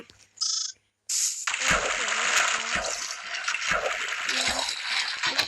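Minecraft game water in a pool: a short bright splash, then a broad continuous watery wash with repeated low thumps, fairly loud and close.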